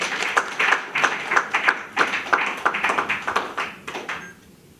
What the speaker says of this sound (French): le président Félix Antoine Tshisekedi, que je vous demande d'applaudir fortement.